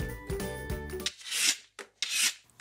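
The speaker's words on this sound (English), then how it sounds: "It's a vegetable peeler." A vegetable peeler scrapes in a few short rasping strokes close up, each a brief hissing scrape separated by pauses, following a faint tonal sound at the start.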